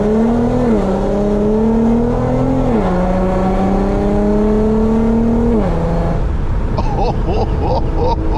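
A 400whp Infiniti Q50 pulls hard with a loud exhaust, the engine note climbing and dropping through gear shifts before easing off, close and dominant, with someone talking over it.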